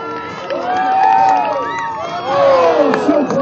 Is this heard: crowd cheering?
yes